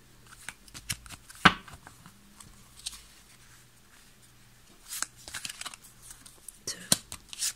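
Tarot cards handled and picked at close range, with sparse soft rustles, card slides and taps separated by quiet gaps, including one sharp snap and a denser shuffle near the end.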